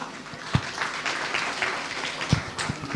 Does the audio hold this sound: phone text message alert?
no